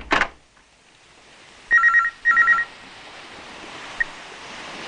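A telephone rings in a home, two short trilling bursts of electronic bell tone separated by a brief gap, fairly clear against a quiet room hiss, with a small click afterward.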